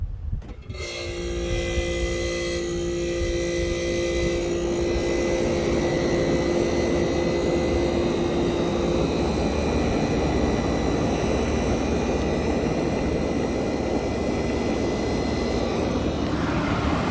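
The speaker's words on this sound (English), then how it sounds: "put you guys near the compressor so we can listen to it start up" A Tecumseh AJM compressor in a 1965 Fedders Weatherwheel air conditioner kicks on with a brief thump, then settles into a loud, steady mechanical hum and whir with tonal drone, running continuously without voices.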